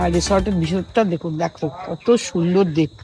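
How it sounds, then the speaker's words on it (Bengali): Crickets chirp at night at a resort by the Murti River in the Dooars, a thin steady high trill running beneath a person talking close by. "আর এত সুন্দর ঝিঝির ডাক তোমরা শুনতে পাচ্ছ নিশ্চয়ই।"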